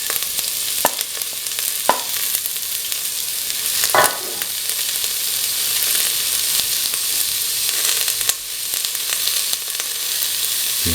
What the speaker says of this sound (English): Put in fenugreek seeds, put in the fennel seeds